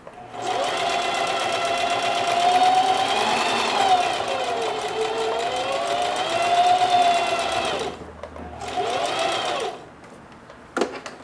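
A sewing machine stitches through denim in a long, steady mechanical drone that pauses briefly near the end, loud and close.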